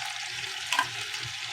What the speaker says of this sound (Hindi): घी हल्का सा गर्म हो जाए तो फिर उसमें आप प्याज डाल दें।